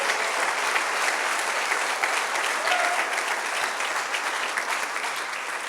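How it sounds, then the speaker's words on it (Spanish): A church congregation claps an offering of applause to the King of Kings, a steady, full round of many hands at moderate distance, even and continuous without a break. "Dele una ofrenda de palmas al Rey de Reyes."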